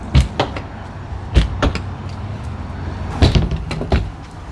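Heavy doors on a Jayco Eagle 319MLOK RV close with several solid thuds and clunks, close and loud, in a quiet interior with no talking.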